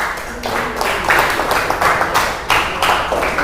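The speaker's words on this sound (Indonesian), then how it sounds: "Tepuk tangan buat kelompok A." A class of students claps for a group in a classroom, a steady patter of hand claps coming in short rhythmic waves at close range.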